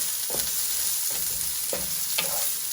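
Green beans fry in oil in a pan until browned, giving a steady sizzle broken by four spaced bursts of stirring and scraping.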